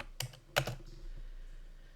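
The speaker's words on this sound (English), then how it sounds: "I'm actually going to type in something different" A few sharp keystrokes on a computer keyboard, quiet and close, come in two brief clusters against a faint background hum.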